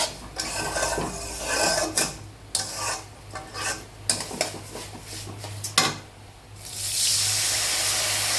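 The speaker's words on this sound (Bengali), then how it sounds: "এবার জল দিয়ে দিচ্ছে মা।" Water pours into a cooking pot in a home kitchen after a run of pot and utensil clatter, ending in a steady close rush of pouring with no voices.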